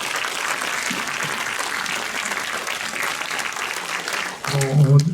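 An audience at a medical congress claps for a researcher, a steady, moderately loud round of handclaps that runs on until a voice starts speaking over it near the end.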